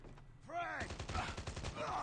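Frag grenade explosion in Call of Duty Mobile, a short burst of in-game gunfire and blast noise running continuously alongside game sound effects and a voice in the mix.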